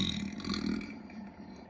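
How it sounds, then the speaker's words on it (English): One loud, drawn-out human burp, close and alone, fading out over about a second and a half. "Oh man, super burp."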